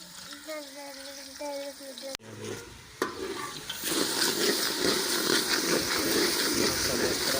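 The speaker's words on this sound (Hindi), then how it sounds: "ये अभी प्याज एक काट के बड़ा वाला डाल दिया है और ऑयल भी डाला है। ये इंशाल्लाह अच्छे तरीके के साथ भून जाएगा।" Chopped onion sizzling in oil in a pot for mutton yakhni pulao, a steady frying hiss that swells louder after a stir, with a voice talking over the start.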